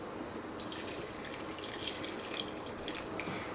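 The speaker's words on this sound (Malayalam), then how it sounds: "ആ രീതിയിൽ നമ്മൾ വെള്ളം ചേർത്ത് കൊടുക്കുക" Water is poured into a papaya masala curry as it cooks, giving a soft, steady trickling splash with no voices.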